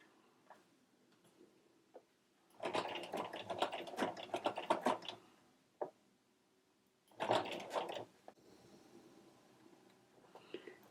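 Sewing machine stitching an inverted pleat with contrast fabric, two close bursts of rapid mechanical whirring a few seconds each, separated by quiet pauses with small clicks and taps.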